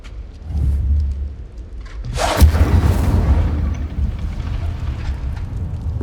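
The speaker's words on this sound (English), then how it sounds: "Incendio! Setting things ablaze is certainly cathartic" An Incendio fire spell in Hogwarts Legacy erupts with a single heavy, booming whoosh about midway, followed by a rumbling, crackling burn that fades gradually beneath a low ambient hum.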